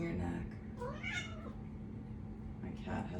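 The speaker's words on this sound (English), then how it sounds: "My cat has the zoomies." A house cat lets out several soft, close meows in a quiet room. The calls come in short bursts with brief gaps between them.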